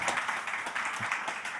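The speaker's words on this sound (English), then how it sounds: "Applause for Bogdan," A brief burst of audience applause at a climate startup accelerator demo day follows a presenter's pitch: a short, moderately quiet patter of many hands clapping together.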